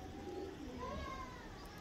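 Soft, low pigeon coos rise and fall over a steady background hum, close by and fairly quiet.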